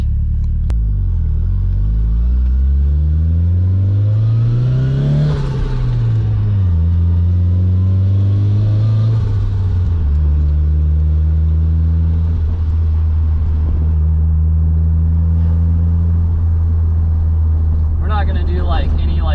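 Turbocharged CA18DET engine in a Nissan 240SX, loud and close, rising through several partial-throttle pulls with rumbling harmonics that climb, drop back and settle, a brief higher whine near the end.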